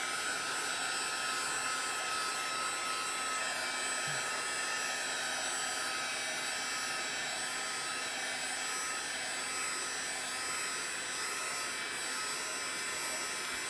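A hair dryer blowing on a chalk paste stencil on plastic, a loud, steady close whir with constant airflow hiss and no pauses, no voices.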